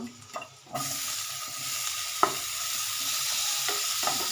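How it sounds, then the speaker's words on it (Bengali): Cut pointed gourd (potol) frying in hot oil in a pan, a steady broadband sizzle with occasional clinks and stirring knocks, loud and close, no talk. "কেটে রাখা পটলগুলো একটু ভেজে নেব।"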